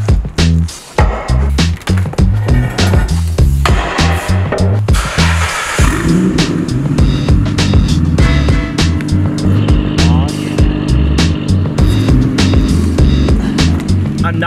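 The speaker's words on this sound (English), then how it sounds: "we can actually take this thing on a nice little test drive" A Nissan Skyline GT-R with upgraded parts drives on a test run, its engine loud and close, first revving in rough bursts and then settling into a steady droning pull.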